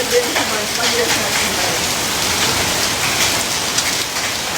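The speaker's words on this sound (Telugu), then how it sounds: "వర్షం పడి వడగళ్ళు చూడండి ఎట్లా పడ్డాయో" Heavy rain and hail pelt down hard, making a loud, continuous drumming and hissing on surfaces nearby.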